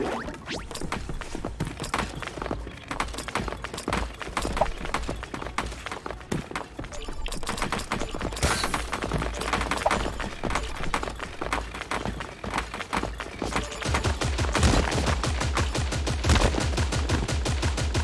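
Gunfire in the video game Creative Destruction, rapid bursts of automatic shots over steady game noise, growing denser and louder toward the end, with no talk.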